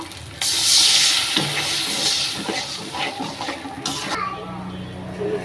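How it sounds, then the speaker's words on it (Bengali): Water poured onto a frying paste of ginger, garlic and cumin bursts into a sharp, hissing sizzle that fades to a steadier bubbling, with a voice speaking over it. "এই যে আমার মশলাটা ভাজা হয়ে গেছে, এখন আমি একটু পানি দিয়ে দিব"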